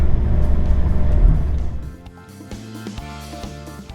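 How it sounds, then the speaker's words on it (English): Old Maserati engine droning loudly under load, then dropping off sharply as the driver shifts gears, settling into a lower steady hum with some mechanical rattling. "So now all it has to do is row through the gears like 1 or 2 more times and we'll be at Johnny's"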